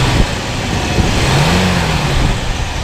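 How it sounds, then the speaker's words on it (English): A 1964 Buick Skylark Wagon engine revs up and holds at a rough, throaty pitch, loud and close, with the rumble rising and falling slightly. "Go ahead and rev it up a little bit."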